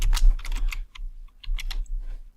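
Close, crisp computer keyboard typing, a quick run of distinct key clicks with a brief pause midway before a few more taps, loud and alone without talk.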